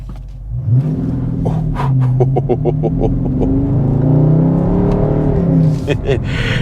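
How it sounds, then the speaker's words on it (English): A 2022 Dodge Charger Scat Pack Daytona with a Hemi V8 and 8-speed automatic accelerates hard from a stop, its engine roaring loud and close as it climbs through several rising gear pulls with brief shift dips. "But let's do a acceleration run here real quick."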